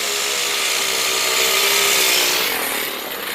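A small 4-stroke engine in a Mercedes-Benz RC truck runs at a steady, loud, buzzing high pitch, close by and continuous, easing slightly toward the end with no voices.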